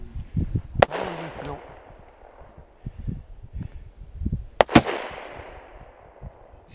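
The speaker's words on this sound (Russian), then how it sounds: "Ну давай еще пару выстрелов." Two sharp rifle shots from an SKS or Saiga MK03 crack out at about one and four and a half seconds, each with a short decaying tail, fired outdoors during a muzzle velocity comparison with low background rumble between.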